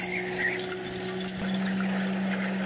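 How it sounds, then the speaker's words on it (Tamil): Water gushes steadily from the pipe of a newly drilled borewell, a continuous rushing, pouring flow with a steady pump-like hum beneath it, close and even throughout with no speech. "இந்த தண்ணி வந்து பைப்பு போட நிறைய தண்ணி வெளியே வருது"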